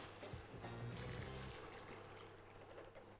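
Vegetable stock poured into a pot of potatoes, a faint steady splashing pour over a low hum that tapers into quieter trickling.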